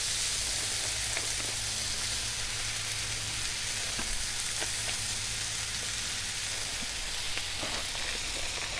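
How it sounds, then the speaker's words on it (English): Butter sizzling on a Blackstone griddle while chicken hibachi cooks, a quiet steady hiss with scattered small pops and crackles throughout. "Leave a little butter in there to let it sizzle up on."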